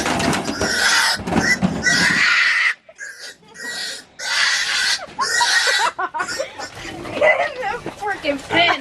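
A feeder pig squeals in loud, harsh, repeated bursts as it is grabbed and hauled out of a trailer, with short gaps between cries and people talking throughout.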